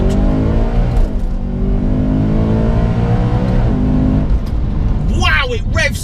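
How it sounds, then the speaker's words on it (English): Supercharged BMW E92 M3 producing about 625 bhp, revving hard as it accelerates in second gear, the engine note rising steadily and loud throughout, with someone talking over it near the end. "Wow, it revs so fast."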